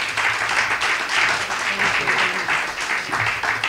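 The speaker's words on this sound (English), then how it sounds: "Please give them a round of applause." An audience at a food waste summit panel in Washington, DC applauds panelists taking the stage, with steady sustained clapping and a few voices mixed underneath.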